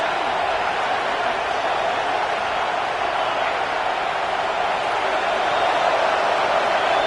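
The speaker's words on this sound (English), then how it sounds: "Listen to this crowd just shaking the girders of this place trying to help their defense." Football stadium crowd at a college game between Tennessee and Colorado roaring steadily to support the defense, a dense, loud, unbroken wall of noise with no pauses.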